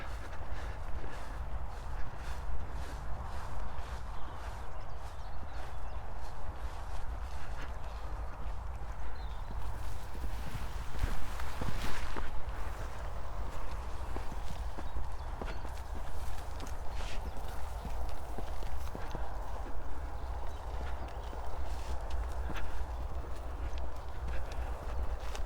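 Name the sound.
horses walking, hooves clip-clopping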